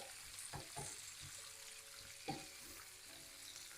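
Leftover chicken stir-frying in a pan over high heat, a steady sizzle with a few scraping stirs and a louder clack near the middle, fairly quiet overall.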